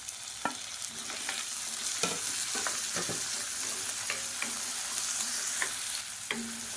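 A medium tomato frying with onions in oil for tiffin sambar, a dense continuous sizzle broken by repeated clicks and scrapes of a stirring spoon, close and steady with no voices.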